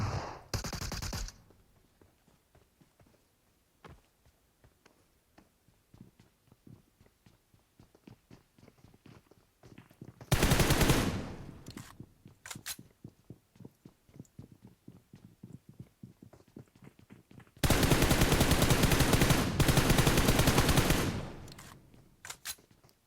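Gunfire from an MK14 rifle in the mobile shooter PUBG Metro Royale, with two loud sustained bursts of rapid shots about ten seconds apart and quieter clicks and footstep-like taps between them.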